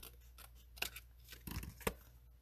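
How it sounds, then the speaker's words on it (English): Scissors snip off excess ribbon or paper during a stamping and die-cut greenery craft project, three crisp cuts near the microphone in a quiet room. "So I am going to just snip that right off."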